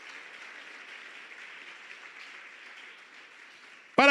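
A church congregation clapping together during worship, a soft, even wash of applause sustained for about four seconds at a distance, with a sudden louder voice breaking in at the very end.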